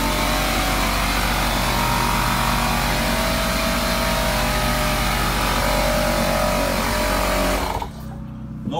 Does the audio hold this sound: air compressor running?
yes